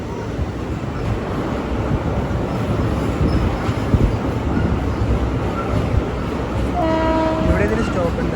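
Tambaram Mangaluru Express sleeper-class train rolling along with a loud, continuous rumble and wind rush, and a horn sounding briefly near the end.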